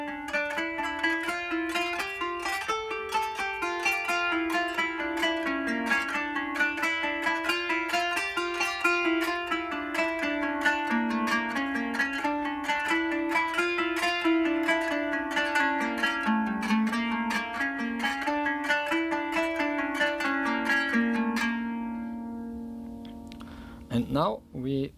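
Kanun, a plucked zither, played slowly using the raise technique, each note struck staccato in a steady run of short plucked tones over about twenty seconds, close and clear, ending with a soft fade and a few faint noises.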